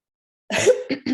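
A single harsh cough followed by two shorter throat-clearing coughs, close and alone in otherwise silent surroundings.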